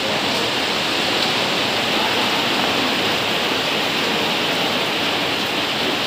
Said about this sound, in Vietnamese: Này mưa tuyệt mọi người, mưa to rồi.